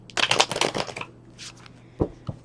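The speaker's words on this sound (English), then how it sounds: "All right, one more shuffle here." A deck of tarot cards is shuffled up close in a quick riffle of crisp flutters lasting about a second, followed by a couple of soft taps as the cards settle.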